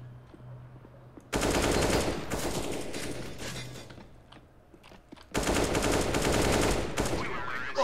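Rapid automatic gunfire in the video game CS:GO comes in two long, loud, close bursts separated by quieter game ambience. A player speaks briefly near the end.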